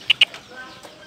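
Fighting cocks at a poultry farm, two sharp close clucks in quick succession followed by softer trailing calls.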